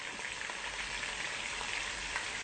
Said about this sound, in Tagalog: So, yan, ipiprito muna natin yung isda.